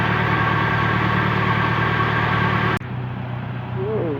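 A Nissan 240SX S13 with a KA24DE engine idles steadily while warming up, a constant loud low hum that drops abruptly in level about two-thirds through, then continues more quietly.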